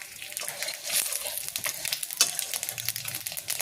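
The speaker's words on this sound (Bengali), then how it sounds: "এবার আর একটু সর্ষের তেল দিয়ে আমি শুকনো লঙ্কা ফোড়ন দিলাম আর সর্ষে ফোড়ন দিলাম" Dried red chillies and mustard seeds crackle and sizzle in hot mustard oil for a sour fish curry, a steady busy frying hiss with sharp pops, alone and moderately loud.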